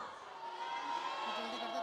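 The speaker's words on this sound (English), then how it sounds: "Okay, left side people, give me a cheer." An audience on the left side of a makeup show hall cheers and shouts together, a sustained crowd roar that holds steady for about two seconds.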